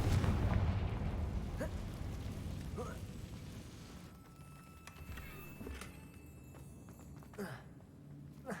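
Bombarda and Confringo spells in the Hogwarts Legacy game set off low booming explosions and bursts beside a damaged bridge. A few sharp pops and impacts follow over a rumbling background.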